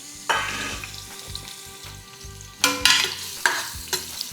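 Chopped onions sizzle in a hot oiled pan during home cooking, with repeated scraping stir strokes in an uneven rhythm and louder bursts of frying partway through, close up and with no talking.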